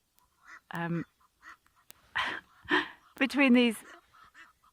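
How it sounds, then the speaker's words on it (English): Egyptian geese call in a noisy din between pairs. There are several loud, harsh honking bursts at close range, spaced irregularly with short gaps between them. "I'm not sure if you're going to be able to hear me over the din of the Egyptian geese."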